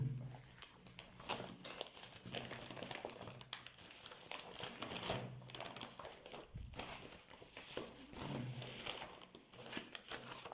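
Paper envelope being handled at close range, with steady crinkling and rustling throughout and a few sharper crackles, with no one speaking.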